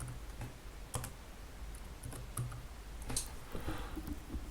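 Someone types on a computer keyboard to change button text, a quiet, close run of uneven key taps and clicks coming in short clusters.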